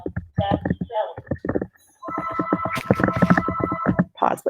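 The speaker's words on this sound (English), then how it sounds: "my phone's ringing." A mobile phone rings with a steady electronic tone for about two seconds, partly under a person talking close by.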